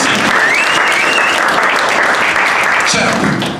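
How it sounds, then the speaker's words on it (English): A crowd at a boxing press conference for Aquila Boxing Promotions applauds steadily, dense loud clapping and some cheering sustained for several seconds, with a voice faintly audible underneath. "let's give yourselves a big round of applause as the boxing community."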